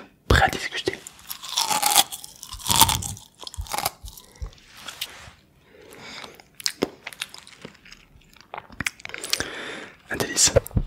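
Crunchy food is bitten and chewed close to the microphone, with sharp crisp crunches in irregular bursts separated by quieter pauses and occasional soft vocal sounds.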